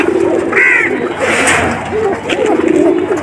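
Racing pigeons coo softly in soft, repeated low calls, close by and steady over a busy background.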